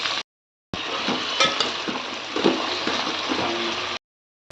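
Green chillies, onions and pumpkin with other vegetables frying in a pan, giving a steady close sizzle with scraping stirs and a few utensil clinks, no talk.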